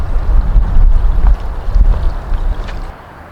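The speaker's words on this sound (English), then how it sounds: "It's blooming windy out here." Strong wind roars and buffets the microphone in heavy low rumbling gusts beside the Oxford Canal, easing off slightly toward the end.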